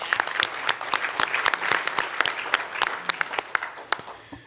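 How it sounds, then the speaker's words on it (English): Dense, steady applause from an audience at a National Governors Association panel on innovation in higher education, with many individual claps standing out throughout the few seconds. "Let's have a round of applause for all our panelists."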